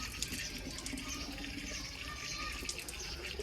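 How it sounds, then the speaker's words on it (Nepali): Steady rushing water, like a tap running into a container, continuous and fairly close with no talking. "पानी भरो पानी बन्द गरिदेऊ त"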